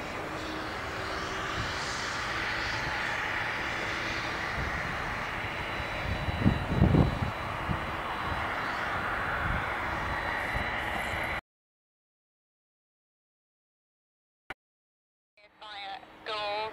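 TUI Boeing 767-300 jet taking off from Doncaster Airport, a loud sustained engine roar that swells and rumbles mid-way, then cuts off abruptly, followed by brief radio voice chatter.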